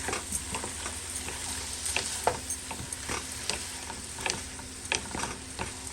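Shrimp sizzle steadily in a frying pan while they are flipped, with a constant hiss of frying broken by scattered light clicks and taps of a utensil against the pan; close and fairly quiet, no talking.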